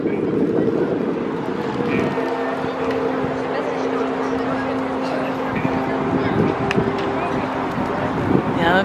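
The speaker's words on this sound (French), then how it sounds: "Il y a beaucoup de vent." Strong wind buffets the microphone outdoors at the Stade de France during a tightrope walk, a loud steady rumble with a low droning hum running through it.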